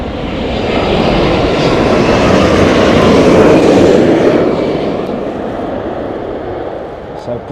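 A British Airways airliner at Heathrow Airport in gusting storm wind roars steadily, its broad jet rumble swelling loud and then slowly fading as it passes, with no talk over it.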